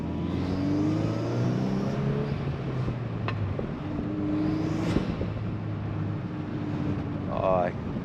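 A 2024 Golf R with a manual gearbox and turbo engine hums and rises in pitch as it accelerates through revs, steady and close, with a brief whistling chirp near the end.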